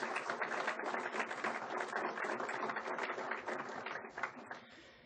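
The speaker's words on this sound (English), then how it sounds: "How about a big round of applause for our trustees?" An audience at a school district foundation's superintendent's breakfast gives a round of applause. Dense, lively clapping fills the room for several seconds and then thins out toward the end.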